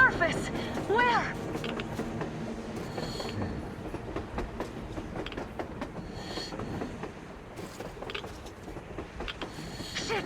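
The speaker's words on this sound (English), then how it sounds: "A damn train on the surface!" A train rolls along rails in the video game Metro Exodus with rhythmic clickety-clack and metallic clanks. Voices talk over it.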